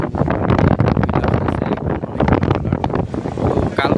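Strong wind gusts buffet the microphone on the coast as dark clouds gather before rain, a loud, continuous roar with fishing trawlers heading in.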